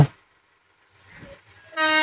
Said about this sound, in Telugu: ట్రైన్ అయితే వచ్చేసింది మామ